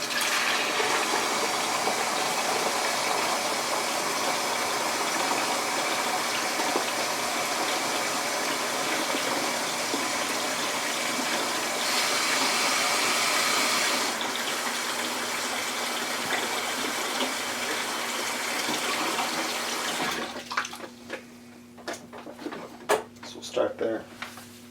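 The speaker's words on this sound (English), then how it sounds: "I'm going to go ahead and add in some warm water." Warm water gushes steadily into a spiced apple cider brewing kit holding corn sugar, a continuous close splashing pour for about twenty seconds before it stops and a few clatters and knocks follow.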